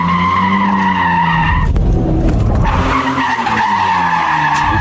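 A four-wheel-drive Nissan Skyline GT-R R34 NISMO Z-Tune with a turbo engine drifts, tires squealing loudly and steadily over a revving engine, with a brief rough scrub partway through.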